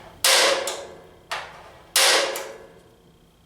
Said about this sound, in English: This is an automatic center punch, but any other punch will work.